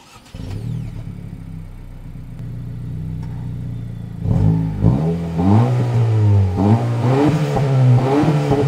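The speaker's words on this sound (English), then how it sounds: "I would like to go and row through the gears in this Integra" A 2023 Acura Integra A-Spec engine starts low and steady, then revs loudly up and down through repeated gear changes. The rising and falling engine note is heard up close with no talking.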